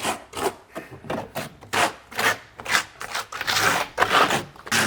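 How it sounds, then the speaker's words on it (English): A trowel's back edge scrapes thinset into the substrate of a curbless shower pan, giving repeated rough rasping strokes at close range, steady and rhythmic with short pauses, and no voices. "take the back side of your trowel and work it into the substrate"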